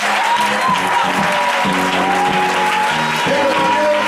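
A church congregation applauds and cheers without a break, steady and loud, with voices mixed into the clapping crowd.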